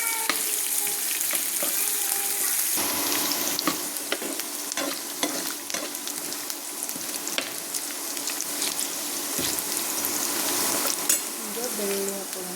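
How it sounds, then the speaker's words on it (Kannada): Onions fry in a pan for a spicy churmuri snack, giving a steady crackling sizzle broken by repeated scraping stir strokes, close and fairly loud, with no talking over it. "ಉಳ್ಳಾಗಡ್ಡಿ ನೀಟಾಗಿ ಫ್ರೈ ಆಗಬೇಕು."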